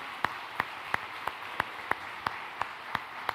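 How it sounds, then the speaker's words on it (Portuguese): A church congregation claps together in a steady, evenly spaced rhythm, about three sharp claps per second, moderately faint over a quiet room. "vamos aplaudir o Senhor, glória a Deus."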